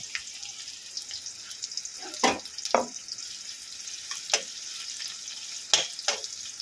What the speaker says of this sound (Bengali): এখানে পেঁয়াজ ভেজে নেব